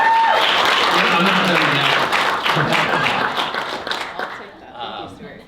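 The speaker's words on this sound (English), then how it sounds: "Let's give her a big round of applause." An audience gives a big round of applause for a speaker at a lecture event, loud sustained clapping from many people that gradually thins and fades toward the end, with a voice briefly starting over it.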